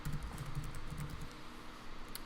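Fast typing on a computer keyboard, a quick irregular run of soft clicks close by, with no voice over it.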